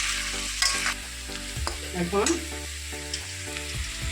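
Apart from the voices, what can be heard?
frying green beans in a pan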